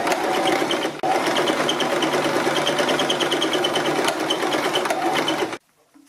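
A sewing machine stitches fabric for a scrunchie, with backstitching at both ends. Its loud, close whirring and rapid needle clatter run almost without pause, break once very briefly and then stop abruptly near the end.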